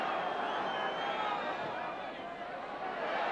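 A Sheffield Wednesday football crowd roars in a steady, broad wash of noise during a 1985 match against Everton, with the home side pressing forward. The roar is loud and sustained and runs under continuous speech.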